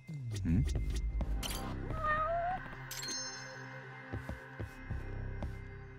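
A cat in the video game Judgment gives a drawn-out meow amid game background sounds, soft thuds and a low hum, with a voice talking over parts of it.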